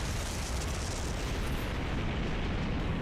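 A massive blast roars against a castle's main gate in the Fate/Grand Order video game, a dense, sustained rumbling wash of explosive noise that fills the whole stretch without a break.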